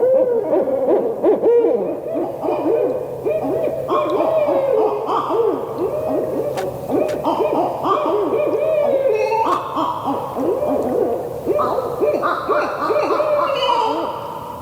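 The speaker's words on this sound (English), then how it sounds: "they're hearing another pair or individual barred owl on an established territory, and that's when the pair starts really revving up and making those territorial calls" Barred owls giving territorial hooting calls, a pair revving up in response to a neighboring pair; loud, continuous overlapping hoots and cackling whoops from close by, with no talk.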